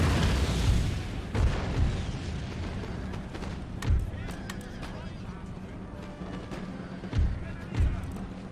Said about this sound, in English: Big hit there from that cannon.